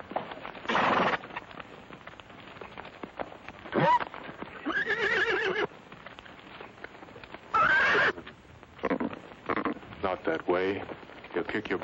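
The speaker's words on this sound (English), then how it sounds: "Rope that mare and lead her out." A horse whinnies several times between stretches of voices in a 1948 Western film scene, with hoof clip-clop mixed in. The neighs are loud and close, and speech runs around them.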